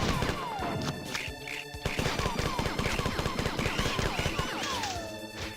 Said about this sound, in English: Damn, but that assault rifle sucks.